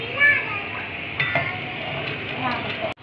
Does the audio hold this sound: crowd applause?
no